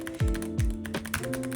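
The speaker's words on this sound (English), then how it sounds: "So first of course is the keyboard. This is the Epix Pro Tactical Gen 3," Quick keystrokes clatter on an Epix Pro Tactical Gen 3 keyboard tuned to its lowest actuation settings, a close, busy run of light taps and a few heavier thocks, with no voices.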